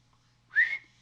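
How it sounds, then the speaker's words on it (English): A single short whistled note from a person, rising briefly and clear against near silence and a faint low hum. "whistle"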